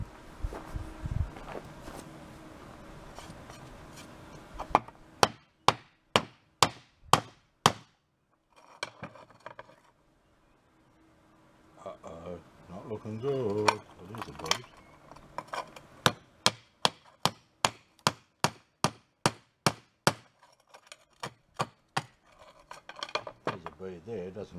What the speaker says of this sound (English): I'll give it a crack with a hammer and see if we've got a bead of gold inside it.